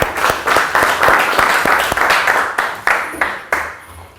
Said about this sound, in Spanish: Démosle un aplauso a la profe por la participación